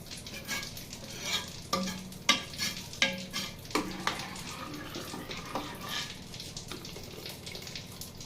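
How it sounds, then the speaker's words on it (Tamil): Spoon stirring rice kheer in a pot, with soft wet sloshes and intermittent knocks against the metal over a gentle bubbling simmer, close and fairly quiet, without talk. "அப்பப்போ நம்ம திறந்து கலக்கிட்டே இருக்கணும்."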